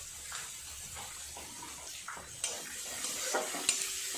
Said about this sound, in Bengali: টমেটো আর পেঁয়াজ আরেকটু ভালো করে নেড়ে নেড়ে ভাজা করে নেব